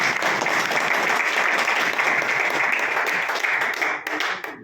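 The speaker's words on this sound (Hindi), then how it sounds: "मैं चाहूंगा कि जोरदार ताली हो जाए।" Loud, sustained applause from an audience at a group meeting, dense clapping that holds steady for several seconds before thinning out and fading at the end.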